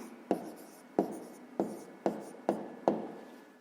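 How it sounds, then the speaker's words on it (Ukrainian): Pen strokes on paper as a numerical answer is written out for a fifth-grade maths exercise, six distinct scratchy taps and scribbles in a steady rhythm, close and clear with no talking. "Пишемо відповідь."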